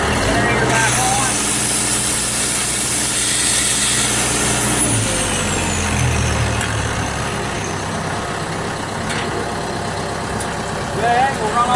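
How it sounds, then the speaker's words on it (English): A generator runs on a 2013 JLG 660SJ telescopic boom lift, a loud, continuous mechanical drone and hum that holds steady close by for the whole stretch. "Grinder shuts off, generator back on."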